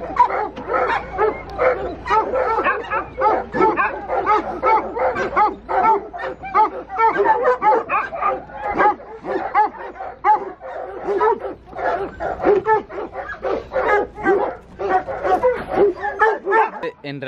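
A pack of hunting dogs from a rehala at a Spanish montería bark and yip nonstop, a dense, loud chorus of overlapping calls that runs throughout.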